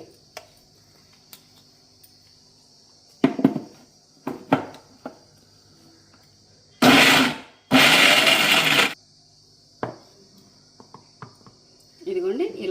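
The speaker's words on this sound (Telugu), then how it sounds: "ఫస్ట్ కచ్చా పచ్చాగా మిక్సీకి వేయాలి" A mixer grinder coarsely pulses black-eyed pea vada batter with coconut in two loud, close bursts of about a second each, set between quiet stretches with small clinks and handling sounds.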